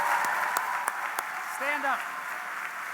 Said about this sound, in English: Could everybody please give a round of applause to my incredible team?